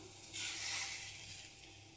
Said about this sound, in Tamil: மிக்ஸ் பண்ணி வச்சுருக்க இந்த முட்டையை வந்து இதில் சேர்த்துடலாம்